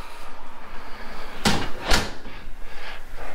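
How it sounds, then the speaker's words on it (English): A hotel room door unlocked with a key card opens with a sharp latch clack and a second thump, then a softer swish, against steady background noise. "So you just put your card in the slot, opens up the door, and walk into the room."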